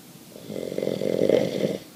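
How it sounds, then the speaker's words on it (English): A man snores once loudly and close by, a single rough, rattling inhalation building over about a second before fading out. "That's a loud snore you got there, sir."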